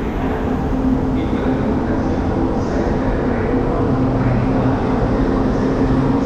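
Steady rumbling interior noise of an Italian passenger train running between Rome and Naples, a continuous low roar with rail hum and no voices, close and even throughout.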